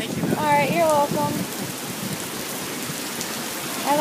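Steady rain hisses evenly outdoors, a constant wash of drops beneath a voice that speaks briefly at the start and end.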